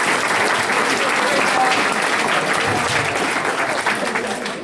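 Big round of applause from a grad night audience at a hypnotist show, loud continuous clapping and crowd noise that holds steady and tapers slightly at the end.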